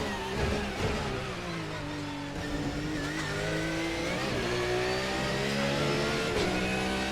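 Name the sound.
GT3 race car engine downshifting in Assetto Corsa video game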